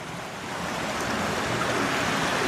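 Water rushes steadily from a gutter drainage spot beside a hillside carriage trail, a broad continuous hiss and splash that holds close and fairly loud throughout, with no voices.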